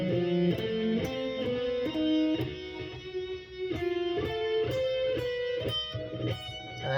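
Electric guitar plays a repeating pattern of major triads stacked a tritone apart in octaves, bright plucked chord notes stepping up and down in steady rhythm at moderate loudness.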